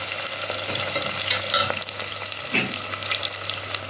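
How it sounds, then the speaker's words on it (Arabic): Onions frying in oil for meat biryani, sizzling steadily with scraping stirs of a spoon, a louder scrape around the middle and another near the end, alone with no talk. "نبدأ كده نقلب في البصل لغاية كده لما ياخد لون"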